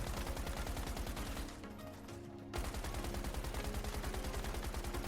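Dense, rapid automatic gunfire from the video game Once Human rattles loudly and steadily, pausing for about a second before the burst resumes at full intensity.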